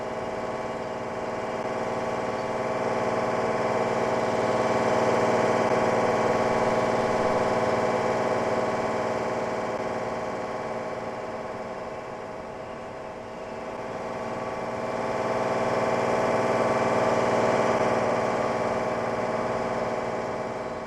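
In the Train Sim World 4 game, a DB BR 628 two-car diesel railcar runs its engine with a steady, humming drone, swelling and easing gently in loudness over a long stretch with no voices.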